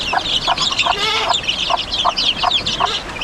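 Chickens cluck and chicks peep continuously, with a steady chorus of high chirps and short rhythmic clucks close by, no talking.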